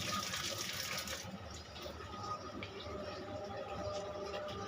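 Tap water gushes steadily over eggs being washed in a home kitchen, a continuous hiss of running water with faint voices in the background.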